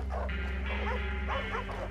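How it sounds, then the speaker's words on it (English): Dogs barking and yipping in the Red Dead Redemption 2 video game, several short yelps and barks repeating close by over a steady low in-game background hum. "We're killing the poor innocent dogs."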